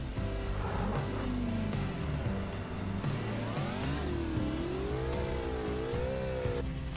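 Simulated car engine in Garry's Mod, revving steadily with rising and falling pitch sweeps over about seven seconds, loud and continuous with no talking.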